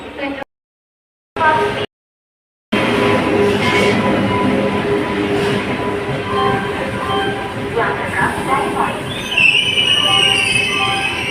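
The Thiruvananthapuram–Chennai Superfast Mail, train 12624, sits at a station platform amid a steady rumbling rail hum with squeals and clanks. Two short dropouts break it early on, and a loud station announcement voice runs over the sound.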